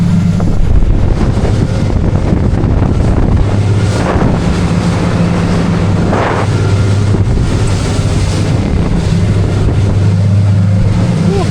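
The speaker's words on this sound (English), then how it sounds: "that crosswind coming directly off my beam is making for a very wet journey" Strong crosswind buffets the microphone continuously on an Albury 23 boat in rough water, over a low engine drone and rushing water, a rough, steady roar throughout.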